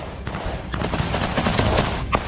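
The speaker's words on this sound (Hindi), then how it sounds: "कहीं बैठकर तो कहीं जमीन पर लेटकर फायरिंग की जा रही है यूक्रेन के टारगेट पर" Ukrainian soldiers firing from sitting and prone positions at Russian trenches produce loud, overlapping rifle shots that crackle through a constant roar of outdoor battlefield noise, with no clear speech.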